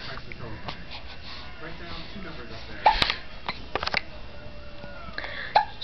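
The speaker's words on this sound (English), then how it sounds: "You got the hiccups, huh?" A little girl hiccups a few times, short sharp gulps standing out over steady background noise while an adult talks to her softly.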